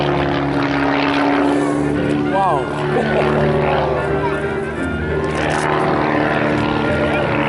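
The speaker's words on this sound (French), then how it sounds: "va nous faire une démonstration de voltige aérienne" Propeller-driven F-PITS Optima aerobatic plane flying a display at an air show, its engine droning steadily with pitch sweeps as it maneuvers; a person exclaims briefly over the continuous engine noise.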